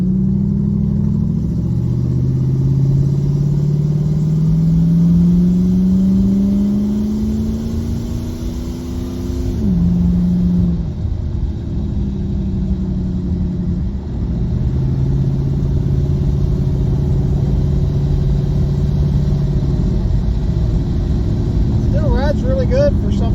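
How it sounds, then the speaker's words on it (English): A V8 car engine with an exhaust leak idles and revs with a deep, steady rumble, its pitch rising and dipping, while someone talks over it for much of the clip. "does have an exhaust leak. That's what you're hearing."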